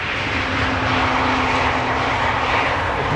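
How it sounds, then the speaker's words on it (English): Emirates Airbus A380 landing at Amsterdam Schiphol with thrust reversers deployed, a loud steady roar of engine noise from a distance, continuous through the clip with no talk. "A belated deployment there of the reversers."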